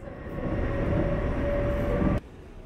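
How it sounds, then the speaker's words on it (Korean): A Seoul subway Line 7 train carries passengers along, a loud steady rumble and roar from inside the car with a faint tonal whine, then it drops off abruptly near the end. "지하철 7호선을 타고 용마산역으로 가고 있습니다."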